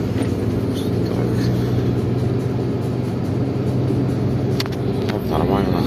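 Loud, steady engine and road rumble filling the cab of a Sitrak C7H MAX truck, with faint rattles and brief muffled sounds over the drone.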